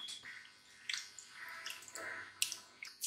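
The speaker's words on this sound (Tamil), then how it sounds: "இந்த மாதிரி தண்ணி வடித்து எடுத்து வச்சுக்கோங்க" Water drains off washed rice and roasted moong dal in a kitchen, heard as faint, close drips and small wet splashes trickling in irregular bursts.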